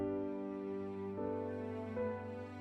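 Benjamin Wallfisch Strings sample library playing sustained notes with alternating bow directions, with soft, steady harmonic tones that shift pitch a couple of times, heard alone and fairly quiet.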